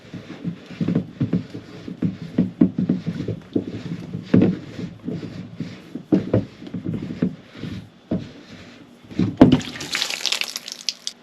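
Leftover water from a whole-house filter housing is dumped into a bucket, irregular sloshing and splashing pulses close by for about ten seconds, ending in a brief hissy rush.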